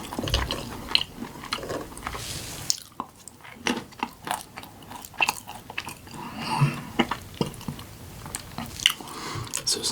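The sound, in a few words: chewing crunchy unsalted cashews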